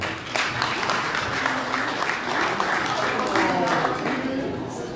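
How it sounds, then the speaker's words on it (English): Audience applause at a political fundraising dinner for Omoyele Sowore's AAC Party in the Washington DC area, steady dense clapping filling the room, with talk mixed in underneath. "Please give yourself a round of applause."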